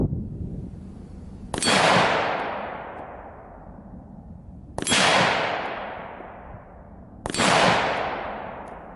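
Three loud rifle shots of 77 grain Hornady Superformance 5.56 rounds striking body armor during a T1 and T2 armor test, each a sharp crack with a long decaying tail, spaced a few seconds apart outdoors.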